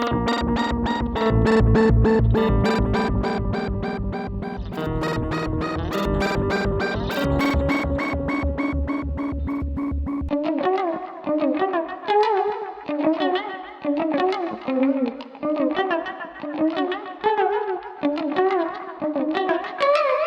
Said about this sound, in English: my electric guitar recorded direct into Ableton with no effects other than echo